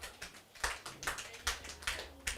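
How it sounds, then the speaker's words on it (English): Audience applause for a correct trivia answer at a Bible-stories stage play, heard as several short, fairly quiet bursts of clapping spaced through the moment, with a faint voice underneath. "Please clap for her."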